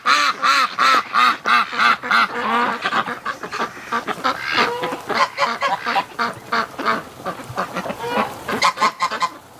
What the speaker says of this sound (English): there's a Muscovy having a bath